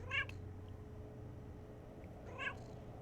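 A pet cat meows twice, close to the microphone, with a quiet pause between the two short calls over a low background hum.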